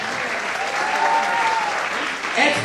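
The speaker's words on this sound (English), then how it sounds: "Round of applause" An audience applauds as teams are introduced at tables during the IES KQ Matters 2013 event, with steady, moderately loud clapping throughout and a voice speaking over it.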